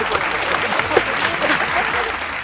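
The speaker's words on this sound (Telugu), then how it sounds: "ఒకసారి గట్టిగా అందరు క్లాప్స్ కొడితే మరి 10 రూపాయలు ఇచ్చేద్దాం సార్" Audience at a college game show claps steadily in a thick wash of applause, with some murmured voices mixed underneath.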